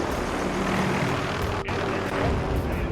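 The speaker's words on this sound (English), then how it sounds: "Do you hear those helicopters in the background? How loud they're getting?" A steady, loud rotor-like drone fills the whole stretch, video game helicopters roaring continuously during a team deathmatch, with a brief dip near the middle.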